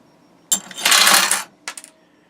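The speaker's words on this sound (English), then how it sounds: "that removed the pin at the bottom of the pile of coins, so they all drop down" Threepenny bit coins released from a coin mechanism as a pin drops away, a sudden jangling metallic clatter of the stack falling, followed by a few separate clinks, close and loud.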